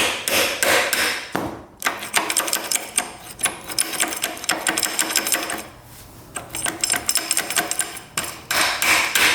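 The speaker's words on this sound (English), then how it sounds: "tap that with a hammer, it might break loose." A hammer taps rapidly and repeatedly on a stuck, rusty part of a cheap dirt bike, a dense, busy metallic clatter that pauses briefly twice, with no talking.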